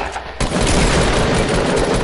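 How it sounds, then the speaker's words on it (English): A video-game rocket launcher fires with a sudden loud blast that swells into a sustained roaring burst, close and overpowering, with no voices over it. "Her rocket launcher."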